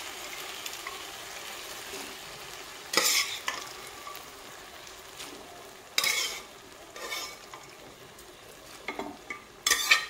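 Boiled rajma being fried with spices and stirred in a hot pan, a steady low sizzle broken by several louder bursts of scraping stirring, close and without talk.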